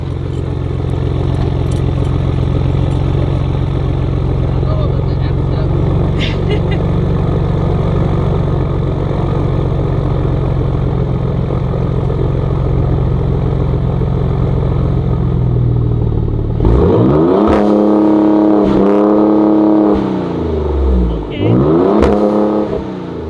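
A pickup truck engine with a Corsa exhaust idles with a deep, steady rumble, then revs sharply several times with rising and falling roars; voices talk over it.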